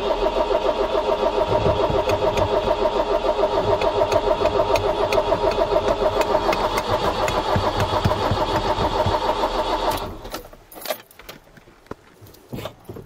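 An Iveco 35-8 van engine cranks steadily and loudly for about ten seconds, a fast repetitive churning that fails to catch, then stops abruptly, leaving faint clicks and rustling.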